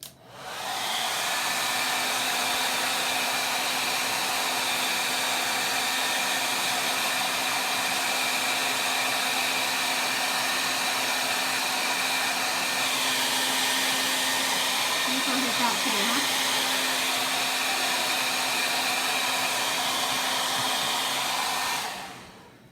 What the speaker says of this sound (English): you can let it air dry or you can hit it with a hair dryer